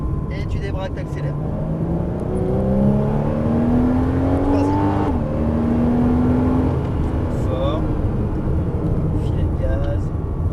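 A Porsche Cayman S on the Dreux race circuit accelerates, its engine note rising steadily and staying loud throughout, with an instructor's voice talking over it.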